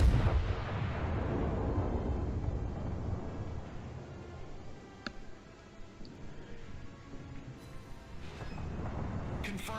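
Heavy warship gunfire in World of Warships opens with a deep booming salvo that rumbles and fades. Fainter distant shots and cracks follow, ending in another swelling rumble.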